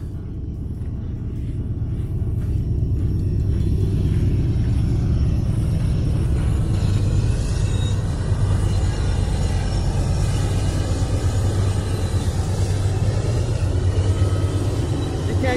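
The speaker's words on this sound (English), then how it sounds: "There's trains everywhere here." A heavy, continuous low rumble of a train rolling past through the Cajon Pass, steady and loud throughout with a faint metallic hiss above it.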